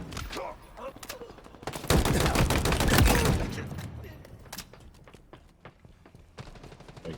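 Rapid bursts of automatic gunfire in Halo Infinite, loudest in a sustained volley near the middle and then continuing as shorter shots, with a voice talking over them.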